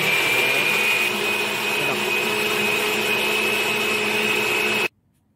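A blender whirs loudly and continuously with a steady high whine for about five seconds, then cuts off abruptly into near silence.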